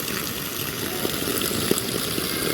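Heavy rain with water rushing and flowing, a steady broadband wash of noise that holds at an even level, with a few faint splashes and no voices.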